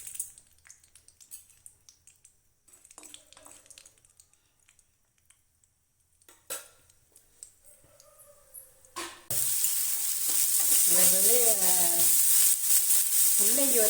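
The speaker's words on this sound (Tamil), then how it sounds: "எண்ணெய் கொஞ்சம் சூடானோன்னா கடுகு போட்டுக்கிறோம். கொஞ்சம் உளுந்து கொஞ்சம் போட்டுக்கிறோம்." Mustard seeds and urad dal hitting hot oil, opening with faint scattered pops and clatter, then a sudden loud, dense sizzle that holds steady to the end.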